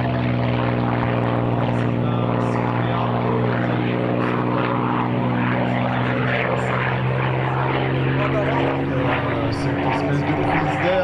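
A propeller airplane drones loudly and steadily at the Cholet 2016 air show, its engine tone holding near and constant, then shifting in pitch toward the end.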